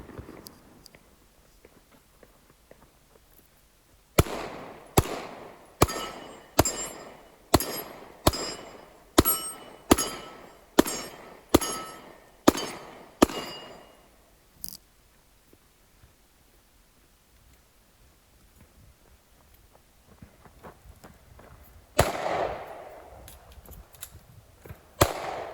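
Pistol fire on a 2-gun match stage: a string of about a dozen sharp, evenly spaced shots rings out, then a pause and a later loud burst, with no talking.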